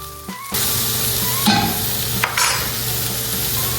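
Onions and garlic hit a hot pan with mushrooms, jumping from quiet into a sudden loud, steady sizzle with a couple of brief stirring clinks, close and unaccompanied by speech.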